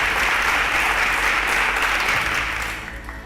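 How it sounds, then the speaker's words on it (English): Studio audience applause for a contestant on a school quiz show: a dense, loud, continuous wash of clapping that holds steady, then fades out toward the end. "A round of applause for Kamsi."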